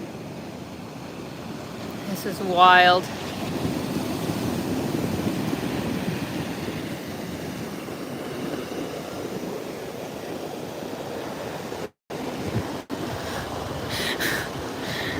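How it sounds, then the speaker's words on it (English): Ocean waves rolling onto the shore at Canggu, Bali, a steady broad wash with wind buffeting the microphone, continuous from start to finish, while a person briefly speaks near the beginning. "These waves, guys, oh my gosh."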